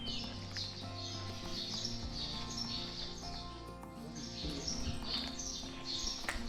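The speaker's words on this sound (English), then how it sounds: "Look at those birds." Birds chirp and tweet repeatedly near the capitol building in Palau, bright calls in bursts over a busy outdoor background with other tonal sounds.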